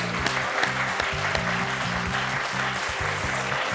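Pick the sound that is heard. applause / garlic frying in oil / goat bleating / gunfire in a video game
applause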